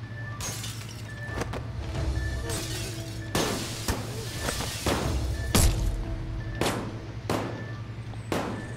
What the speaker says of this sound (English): Hit E to break the glass.